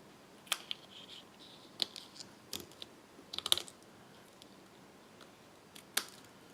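Scissors cut paper for a traditional snowflake-themed Christmas card, giving about five sparse, quiet snips spread across a hushed room with no talking.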